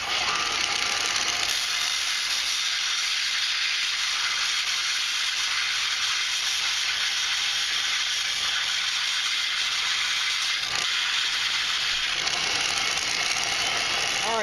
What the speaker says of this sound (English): I'm going to turn on the old sander and we'll get to going.